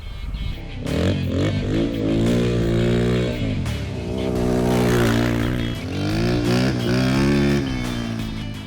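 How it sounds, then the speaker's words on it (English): Four-wheeler ATV riding at the Appalachia Bay off-roading area by Keystone Lake, its engine loud and close, revving up and down in repeated surges with a steady throbbing drone throughout. "I like to ride four-wheeler."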